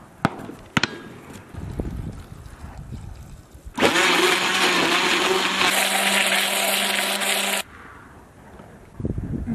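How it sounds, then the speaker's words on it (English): A Coolest Cooler's built-in blender whirs loudly and steadily for about four seconds with no ice inside, starting and stopping abruptly amid quieter background handling noise. "just like any other run-of-the-mill blender, it's gonna have a hard time chopping up ice very finely"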